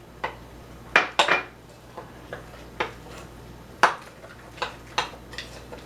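Two eggs are lightly beaten with utensils against a bowl for coconut oatmeal cookie batter, giving irregular sharp clinks and taps, some in quick pairs, close and fairly loud with no talk.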